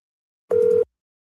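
A short telephone call signal tone after a butt dial, a single steady electronic beep lasting about a third of a second, clean and isolated against silence.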